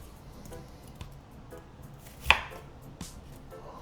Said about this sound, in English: I do one slice here and then I slice it again.